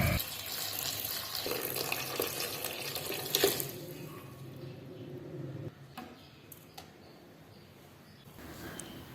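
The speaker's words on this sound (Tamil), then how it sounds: "வெள்ளரிக்காய் நல்லா வேகிற அளவுக்கு தண்ணி சேர்த்துக்கோங்க." Water pours into a cooking pot of cucumber with turmeric and salt for a curry, a brief splashing stream in the first few seconds that then fades to quiet kitchen handling sounds.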